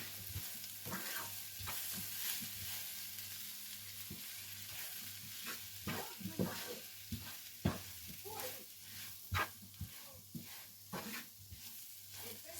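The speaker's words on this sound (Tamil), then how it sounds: "நான் இப்போது ரவையை சிறிதளவாக சேர்த்து இதோட வடிவாக மிக்ஸ் பண்ண போகிறேன்." Semolina stirred into a frying mixture of prawns and tomato in a pan, a faint low sizzle with repeated soft scrapes and taps of the spoon that grow busier toward the end.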